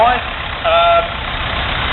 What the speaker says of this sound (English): This is an International Harvester B275.